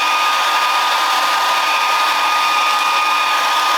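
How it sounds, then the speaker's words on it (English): A hair dryer blow drying hair while a textured quiff is styled on a hair system, a loud, steady, continuous whoosh of airflow close by with no talking. "blow drying the hair"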